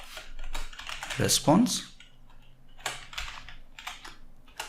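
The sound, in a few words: typing on a computer keyboard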